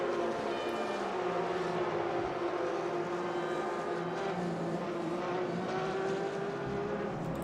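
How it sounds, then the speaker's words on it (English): A Porsche 991.2 race car drifts in a racing video game, its engine holding a steady, continuous drone with tyre noise close up and no voices. "Nice drift."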